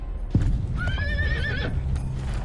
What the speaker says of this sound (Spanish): El caballo de Brownie se encabritó de repente y se le cayó encima